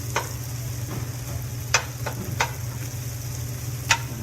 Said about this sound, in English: Now I'm going to cook my meat. I'm going to move these onions to the side.